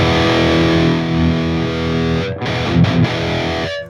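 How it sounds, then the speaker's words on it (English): Electric guitar through a Tonex One amp modeler with a compressor, a dense sustained chord ringing evenly and loud, then a few quick choked strums before it cuts off near the end. "you got a compressor for your clean tones"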